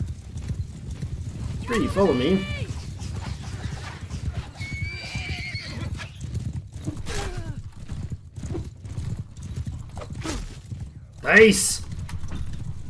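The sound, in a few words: horses galloping and neighing in video game Bannerlord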